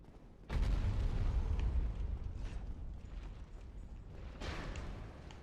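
In Dark Souls: Remastered, a heavy door grinds open with a deep, rumbling boom. A sustained low scraping rumble follows and fades over several seconds, with a second swell near the end.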